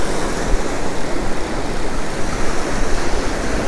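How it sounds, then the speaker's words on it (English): Shore break waves crashing and churning steadily along a beach, a continuous loud roar of surf with no talking. "These shore breaks right here, dang, giving me some trouble"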